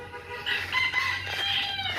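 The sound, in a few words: chickens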